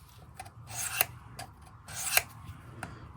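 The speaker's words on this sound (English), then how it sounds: "field sharpener from Work Sharp" A Queen pocket knife blade is drawn across a Work Sharp guided field sharpener, making two longer, bright rasping strokes and a few shorter scrapes and light ticks. The sound is close and moderately quiet, with no talking.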